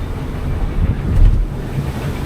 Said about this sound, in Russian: Волна большая.